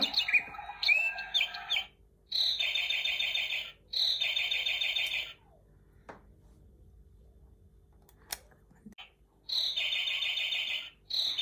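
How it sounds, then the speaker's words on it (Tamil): A toy bird gives bursts of shrill, electronic-sounding chirps in repeated phrases with silent gaps between them, and a few faint clicks. "இந்த குருவி ஆட்டோமேட்டிக்கா சத்தம் போடும்"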